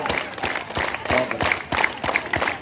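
Rhythmic, evenly spaced clapping from a crowd at a yoga day celebration, a dozen or so sharp claps in steady time, moderately close, with faint voices underneath.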